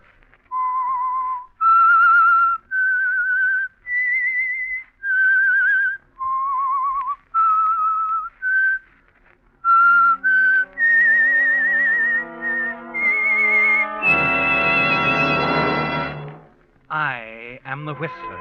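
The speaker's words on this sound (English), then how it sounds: "That whistle is your signal for the Signal Oil Program," A solo whistler performs the eerie theme melody of the 1948 radio mystery show The Whistler, a loud, close series of sustained, wavering notes with short gaps, later joined by an orchestral chord and a harp-like flourish.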